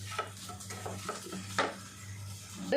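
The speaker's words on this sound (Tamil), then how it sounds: "உப்பு முட்டையை போட்டுடலாம் நல்லா இப்படி புரட்டி எடுத்துடலாம்" Eggs with salt being stirred and flipped in a pan for egg biryani, a low steady hum underneath with repeated soft scraping strokes and light clinks, a sharper scrape near the end.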